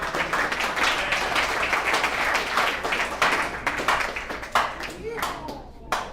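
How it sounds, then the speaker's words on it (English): A room of alumni at a recovery services meeting applauds a guest speaker with dense, sustained clapping. Voices and cheers mix in as the clapping thins toward the end. "Let's give him a round of applause."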